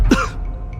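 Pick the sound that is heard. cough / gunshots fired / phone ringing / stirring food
cough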